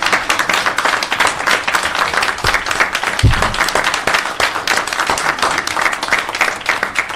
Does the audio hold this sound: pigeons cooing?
no